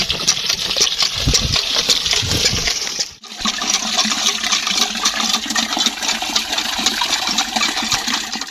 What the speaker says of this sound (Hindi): नलका जो है ना फिट हो चुका है और पानी भी निकल चुका है, ये देखें जी